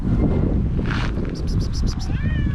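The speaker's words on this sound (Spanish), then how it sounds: "Uy, me persigue un gato." A cat meows several times close by, with short rising and falling calls near the end, over constant wind rumble and rustle from an outdoor microphone; no clear talk.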